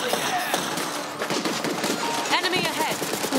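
Rapid automatic gunfire bursts from the video game Borderlands 3, dense and loud, with someone talking over the shooting throughout.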